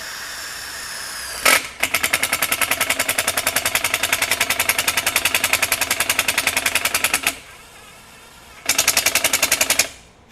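A Kobalt 24V brushless impact driver drives a self-tapping screw into 1/8 inch aluminum, hammering loudly and steadily in a long burst of rapid rattling, then stopping, then firing again in a shorter burst.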